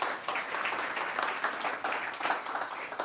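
Applause from a pitch-event audience after investor judges are introduced, a dense steady wash of many hands clapping at moderate volume for about three seconds.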